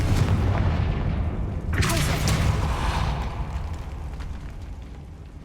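A fiery blast spell in the Hogwarts Legacy video game erupts with a loud booming explosion about midway, over a constant low rumbling background.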